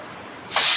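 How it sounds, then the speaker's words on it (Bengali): Dry red chillies hit hot oil with a sudden loud hiss that starts just past the halfway point and continues as a close, steady sizzle, with no talking. "তেলটা গরম হয়ে গেছে বন্ধুরা, ফোড়নে আমি শুকনো লঙ্কা দিয়ে দিলাম"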